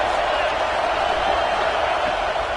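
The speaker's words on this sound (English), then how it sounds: "This crowd bringing the energy and noise early." Stadium crowd cheering in NCAA College Football 26 during an Ohio State vs Ohio University game, a dense, steady roar of many voices filling the whole moment without letup.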